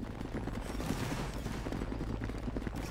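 Musket volley fire in a Napoleonic Wars battle game makes a dense, continuous crackle of many distant shots that overlap into a steady rumbling fusillade throughout.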